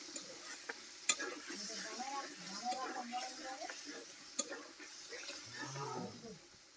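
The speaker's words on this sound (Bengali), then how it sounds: "নেড়ে নেব আর একটু সময় নিয়ে কষে নিলেই হয়ে যাবে" Lime pickle with sugar is stirred and sautéed in a pan: a soft, steady sizzle runs throughout, with scraping spoon strokes and a few sharp clinks against the metal.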